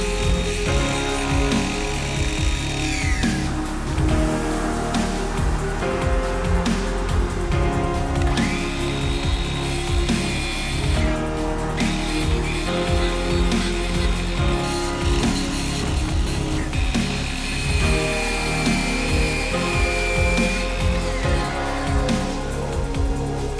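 A miter saw fitted with a stop system cutting wood in repeated passes to make slots, a loud sustained motor whine and rasping cut with the motor spooling down several times, close and continuous.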